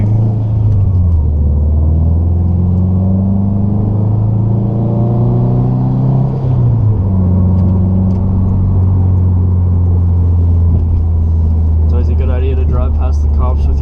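Built Subaru WRX STI engine rumbling low and loud from inside the moving car at night, with a steady drone that dips and shifts as the engine revs change, while people talk over it.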